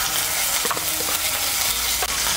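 Ginger paste frying in hot oil in a pan for a pumpkin curry, with a steady close sizzle and a few soft scrapes and clinks of a spoon stirring throughout.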